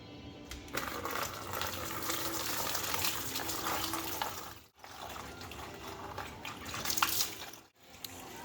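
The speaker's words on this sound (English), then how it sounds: "I'm going to pull a radiator hose and we're going to start draining" Engine coolant pours out of a pulled radiator hose on a Honda Integra with a B16 engine. The gushing, splashing flow is steady and fairly close, with two brief breaks in the stream.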